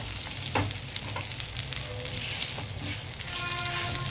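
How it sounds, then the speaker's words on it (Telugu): Dates being heated in a pan and pressed soft with a ladle for dry fruit laddus, giving a steady close sizzle with faint scraping and a sharp clink near the start, no talking. "ఇలా వేడి చేసి మనం ఇలా ప్రెస్ చేస్తే మెత్తగా అయిపోతుంది"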